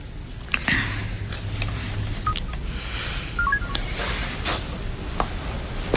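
Telephone keypad tones beep one after another as a number is dialed before a call, sounding close and clear over a low steady background hiss.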